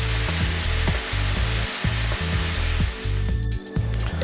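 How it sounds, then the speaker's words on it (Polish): Onions and mushrooms fry in oil in a pan, giving a loud, continuous close-up sizzle over a regular low pulsing beat, with no voices. "i wszystko smażę."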